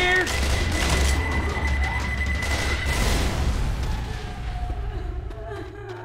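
Pipe bomb blast in a co-op zombie shooter game, a heavy low rumbling boom amid continuous gunfire and chaotic combat noise, with voices talking over the action.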